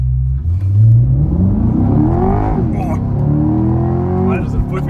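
A Chevrolet Corvette C8 accelerates hard on a racetrack, its engine rising loudly in pitch through gear changes, heard from inside the car while people talk over the roar.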